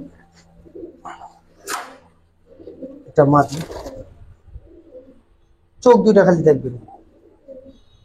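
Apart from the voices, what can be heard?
pigeons cooing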